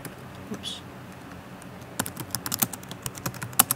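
Keys clatter on a computer keyboard in quick, irregular bursts of typing, close and fairly crisp, with a quieter stretch before the tapping picks up and runs steadily to the end.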